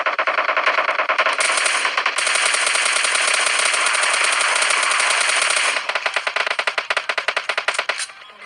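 Sustained machine gun fire in the PUBG Lite battle royale game, a loud continuous burst of rapid shots lasting several seconds, then breaking into choppier, stuttering volleys at the end.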